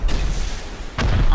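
Rocket launchers firing during a base raid in the game Rust, a rumbling blast fading out and then a second sharp boom hitting at close range.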